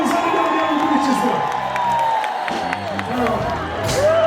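A large crowd at an outdoor religious gathering cheering and applauding with scattered whoops and clapping, while a voice speaks over a loudspeaker above the steady crowd noise.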